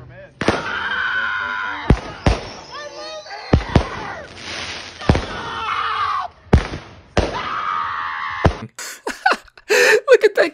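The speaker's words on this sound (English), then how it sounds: "A man's just watching the pretty fireworks" Fireworks go off with repeated sharp bangs and crackling bursts, loud and close, while people talk and shout between and over the blasts, ending in a rapid cluster of pops.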